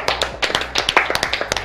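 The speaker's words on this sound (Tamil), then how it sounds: "ஒரு மனமார்ந்த கைதட்டுகளை நம்ம கொடுத்துடலாம்" Applause from an audience at a Tamil Christian television programme honouring a nun: a small group claps nearby in quick, uneven bursts of sharp hand claps, with no voices over it.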